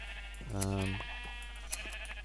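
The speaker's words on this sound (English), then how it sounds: "So I actually have dyed some of my sheep as well." A single clear sheep bleat from a Minecraft-style video game, short and near over a quiet low hum.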